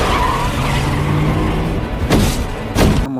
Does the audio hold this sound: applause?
no